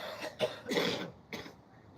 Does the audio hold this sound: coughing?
yes